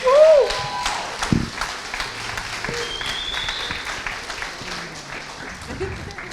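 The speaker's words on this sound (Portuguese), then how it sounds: "Vamos aplaudir nossa pastora, gente." A church congregation at a Sunday service applauds Pastor Mariana Carrupt, producing a thick wash of clapping that opens loudest and then settles to a steady level, with voices and a brief tone rising over it.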